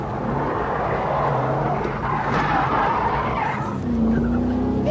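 A 1997 Ascari FGT sports car sliding as it breaks away on a big open tarmac area: loud, sustained engine roar mixed with squealing tires, heard close and continuous throughout.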